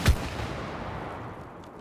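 A single sharp gunshot rings out in the co-op video game It Takes Two, with a punchy crack at the start followed by a rumbling tail that fades over about a second and a half.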